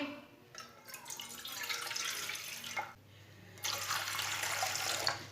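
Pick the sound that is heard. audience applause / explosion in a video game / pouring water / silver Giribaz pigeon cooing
pouring water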